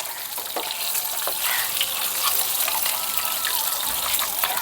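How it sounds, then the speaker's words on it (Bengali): Eggs stirred and fried in hot oil for Hyderabadi egg biryani, a steady close sizzle with soft scraping stirs throughout, no talk. "এখন নাড়াচাড়া করে লাল করে ভেজে নেব ডিমগুলো।"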